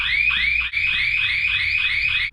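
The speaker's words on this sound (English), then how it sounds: "the building's alarm went off, and it was loud as heck" A building alarm blares ear-piercingly loud, a close, insistent electronic tone sweeping up in repeated cycles with brief dropouts, heard alone without talk.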